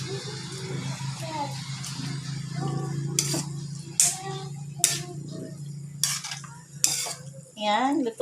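Pork for caldereta is sautéed and stirred in a pan, with scraping and sharp metallic clanks of a utensil against the pan over a low sizzle, while a person talks throughout.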